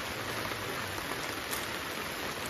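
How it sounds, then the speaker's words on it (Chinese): Heavy rain falls steadily on a canopy shelter set up for a rural village banquet, a dense, even hiss with no voices and no breaks. "一直下雨呀。"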